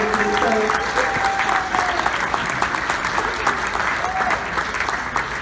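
Loud, continuous applause from an audience at an awards ceremony honoring state clinic workers with service pins fills the room, with dense clapping throughout.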